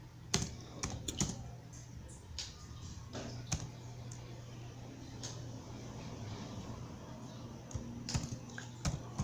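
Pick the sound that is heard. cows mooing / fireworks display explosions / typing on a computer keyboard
typing on a computer keyboard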